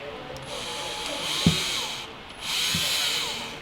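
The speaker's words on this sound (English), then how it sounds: "take your plastic caps and drill a hole in the center" A power drill whirs in two short bursts, biting into a plastic cap with a brief grinding crunch, close and moderately loud.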